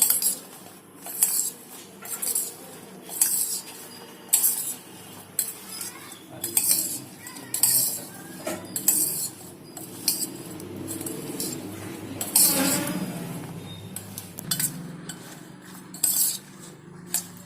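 A spoon mixes chili pickle in a bowl, with repeated clinks and scrapes against the bowl in a steady rhythm of separate strokes, close up.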